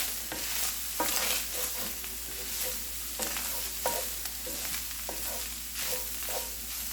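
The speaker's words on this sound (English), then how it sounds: "And you're just gonna stir this up." Taco meat sizzles steadily in a pan over medium heat while a spoon stirs it, scraping at an irregular rhythm, heard close and fairly quiet with no talking.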